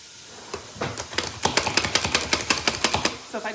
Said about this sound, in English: This is our food chopper.